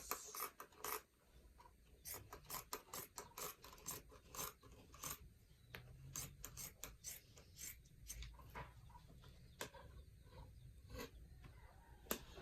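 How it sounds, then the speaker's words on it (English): Scissors cut through shirt fabric in quick repeated snips and rustling strokes, close and fairly quiet, with the cloth shifting between cuts. "Then I'll just go ahead to cut this lower part."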